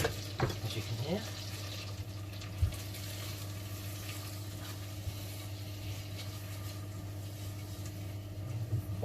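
Soft, steady sizzle of fat in a hot pan, faint and continuous, with a low hum and a few light clinks.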